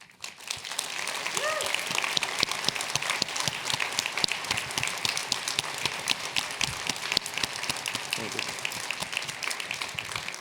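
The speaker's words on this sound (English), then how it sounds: "I want you to give them a big applause" An audience applauds a team standing up at a digital leadership talk in Silfurberg, a steady, dense round of clapping lasting several seconds, close and continuous.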